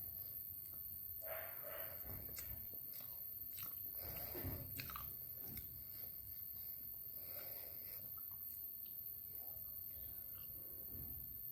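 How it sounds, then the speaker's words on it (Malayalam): A crunchy snack is bitten and chewed up close, with sharp crackling crunches followed by steady munching, and quiet voices in the background. "നമുക്കിത് കഴിച്ചു വെക്കാം"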